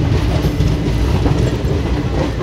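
Millennium Express train running into the platform at Renigunta Junction, a steady loud rumble of wheels and carriages with faint rhythmic clickety-clack throughout, no voices.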